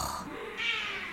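A cat meows up close, one drawn-out, rising and falling call that fills the brief moment, fairly clear against a quiet indoor background.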